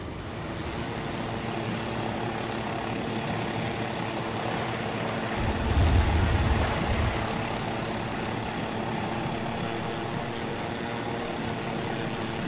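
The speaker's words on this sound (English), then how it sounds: "Now get to the chopper, get in the chopper," A helicopter in the military sim game Arma 3 flies off, its steady rotor and engine drone continuous throughout, swelling briefly louder near the middle before settling back to an even, moderate hum with no talking.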